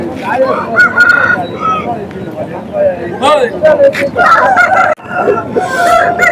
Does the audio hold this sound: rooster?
yes